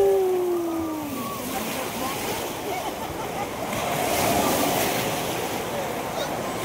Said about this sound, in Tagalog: Ganda ng wave, oh. Umaalon din yung wave, umaalon din.